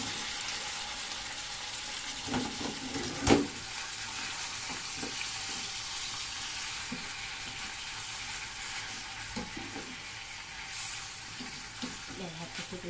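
Rice and onion toast in a frying pan, giving a steady, faint sizzle with soft scrapes and a few clinks from stirring. A person speaks quietly over it.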